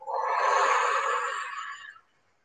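One sustained breath blown out during a vocal warm-up exercise, a close, airy hiss lasting about two seconds before tapering off, heard alone without talking.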